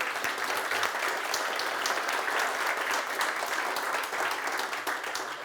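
An audience at an evening talk event in Motueka applauds the event team, giving a steady, even wash of clapping at moderate distance, fairly soft and without voices.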